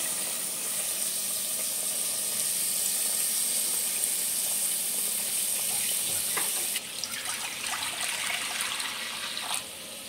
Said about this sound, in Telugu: ఇంకొక పొయ్యి మీద బాండీలో వాటర్ పోసుకొని వేడి చేసుకోవాలి